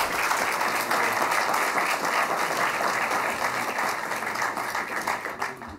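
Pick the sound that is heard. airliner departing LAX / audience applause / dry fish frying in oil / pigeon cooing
audience applause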